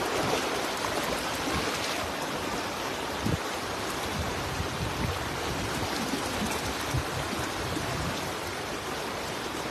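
Strong river current rushing steadily at a fishing spot, a dense continuous wash of water noise filling the whole clip at close range with no pauses.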